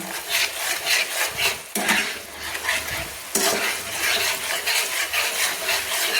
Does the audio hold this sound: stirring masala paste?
yes